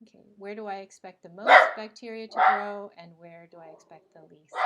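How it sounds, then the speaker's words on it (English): A pet dog barking close by in a home, a few loud yaps spaced between a woman's steady speech, with smaller yips mixed in. "Sorry about my dog"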